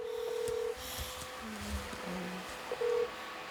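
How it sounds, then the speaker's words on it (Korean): Telephone keypad tones sound faintly as a call is dialed: a few separate beeps of different pitch, spaced out over a quiet room hum. "엄마는 꼭 아빠에게 전화를 걸어줍니다"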